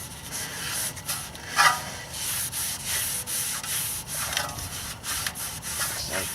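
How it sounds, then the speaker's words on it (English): A BMW X3 E83 brake rotor is wiped clean by hand, giving repeated close rubbing and scrubbing strokes in an irregular rhythm, with no talking. "clean off the rotor. Make sure it didn't get any grease on it"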